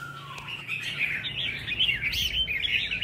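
A competition songbird sings from its perch outdoors in light drizzle and wind, a lively, close run of bright warbling chirps and trills that carries on without pause over soft background noise.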